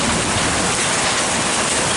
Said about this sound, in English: Yep, I think it's mainly rain now.